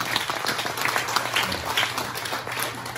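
Audience applause at a forum's founding preparatory committee meeting, a dense, steady wash of many hands clapping at moderate loudness throughout, with no talk over it.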